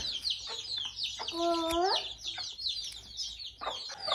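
A Kadaknath hen clucks nearby in a farmyard with other chickens, a few short clucks and one drawn-out call, fairly faint among background chirps.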